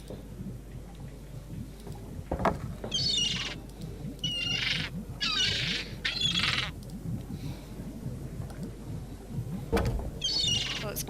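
Bird squawking in the Secret of Monkey Island video game, several short harsh cries in a loose series over a quiet game background, with one sharp louder hit near the end.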